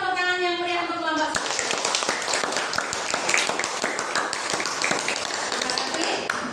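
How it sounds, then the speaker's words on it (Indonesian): After a group presentation, a room of people claps for group 1: loud, dense applause kicks in after a brief voice and carries on steadily. "Berikan tepuk tangan yang meriah untuk kelompok 1."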